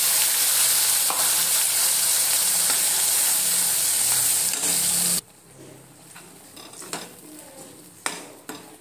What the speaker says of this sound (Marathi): आपला मसाला भाजत आहे